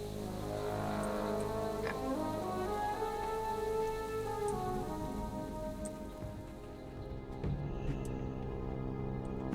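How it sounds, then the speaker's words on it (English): Rain falls steadily in World of Warcraft, a faint, constant patter under low droning ambient tones and soft sustained music, with occasional light ticks and no voices. "I only just realized it's raining."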